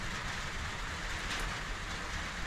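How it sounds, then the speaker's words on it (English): Steady rain falls outdoors beside an Austin Ten Special being built into a rat rod, a constant broadband hiss with no breaks, moderately loud and without voices. "And the rain came down."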